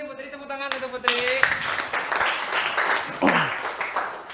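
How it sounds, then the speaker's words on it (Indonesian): A classroom group breaks into applause after a teacher's talk: scattered hand clapping rises after a spoken voice and continues as a mixed, moderately loud patter, with a voice heard over it near the end. "tepuk tangan untuk Putri"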